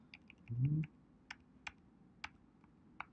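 Computer keyboard keys are pressed, including the Shift key, producing about a dozen sharp, close, separate clicks at an uneven pace, with a short low voice murmur early on.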